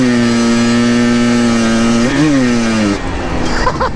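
A Yamaha Blaster 200 ATV engine idles while warming up, a loud, steady buzzing drone that briefly wobbles in pitch, then drops away, leaving quieter rattling at the end.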